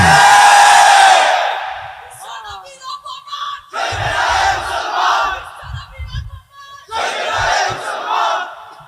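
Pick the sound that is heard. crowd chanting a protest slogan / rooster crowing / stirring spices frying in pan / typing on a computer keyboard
crowd chanting a protest slogan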